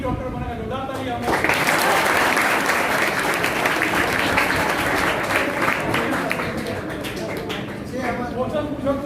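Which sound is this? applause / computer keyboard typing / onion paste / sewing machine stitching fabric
applause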